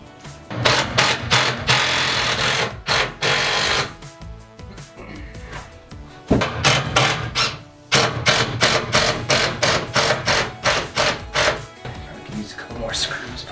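Screws driven in with a power drill while building roof top tent storage: repeated close, loud bursts of rapid mechanical chattering with short pauses between runs, and a voice speaking at times.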